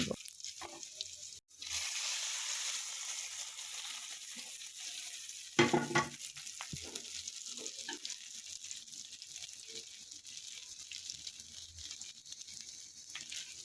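Onion, garlic and dried red chili hit hot mustard oil for a tempering, sending up a sudden loud sizzle that settles into a steady crackling fry, with a sharp spatter burst midway and light stirring clinks, no voices.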